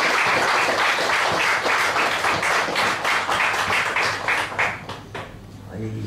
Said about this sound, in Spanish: Fuerte el aplauso para...